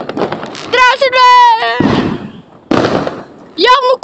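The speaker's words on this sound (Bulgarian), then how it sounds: "Явно комшата има много силни пиратки!" A neighbour's loud New Year firecrackers go off in sharp booming bursts, mixed with excited shouting voices close by.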